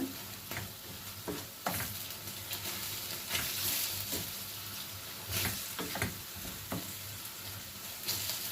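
Chicken and onions sizzle steadily in a hot pan, with a constant frying hiss and occasional scraping clicks of stirring, close and fairly quiet.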